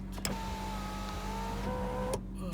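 Electric sunroof motor of a high-mileage 2006 BMW 325xi E90 whirring steadily inside the car during rain, with a click at the start and a thunk as it stops.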